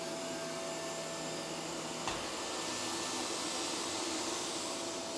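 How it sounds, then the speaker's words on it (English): An ECOVACS DEEBOT T90 PRO OMNI robot vacuum runs continuously on max suction with a high, whiny hiss and steady roar, holding one even level throughout. "ECOVACS gives you different suction options, all with noticeable different sound levels. This is on max"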